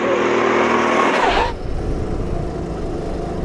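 A go-kart on a race track roars at high revs through a corner, then the engine note drops sharply as the kart slides into a drift, leaving a rough lower rumble close by.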